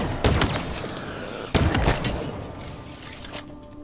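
Weapon fire in the Halo Infinite campaign: two sharp bursts of gunfire, one near the start and one around the midpoint, each trailing off into echoing decay, with no talk.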